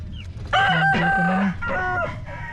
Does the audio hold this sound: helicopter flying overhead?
no